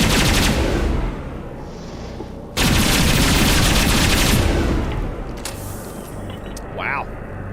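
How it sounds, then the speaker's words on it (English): A Geth Pulse Rifle from the video game Mass Effect 2 fires in loud, sustained automatic bursts, with a brief lull mid-way, while a voice talks over the shooting. "Geth Pulse Rifle."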